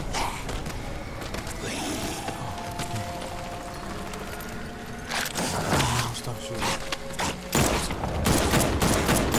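Rapid bursts of gunfire in the Batman Arkham Knight video game, clusters of sharp shots and fusillades repeating across the stretch over a dense game soundscape.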